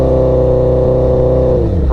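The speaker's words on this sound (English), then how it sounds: "you could really add in the throttle, but it's not gonna do anything because you're simply slipping your clutch" A motorcycle engine revs with a slipping clutch, holding a loud steady drone and then dropping in pitch toward the end, close and alone.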